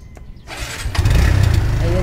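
A restored sidecar motorcycle engine cranks and catches after a brief scrape, then settles into a loud, close, rumbling idle that continues steadily.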